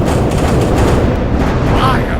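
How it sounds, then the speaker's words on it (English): Double laser cannons from the spaceship game Faster Than Light fire in a dense, continuous barrage of loud blasts and booming impacts, layered over a rumbling battle backdrop with no pauses. "I can fire all 4 double laser cannons without sapping shields right now"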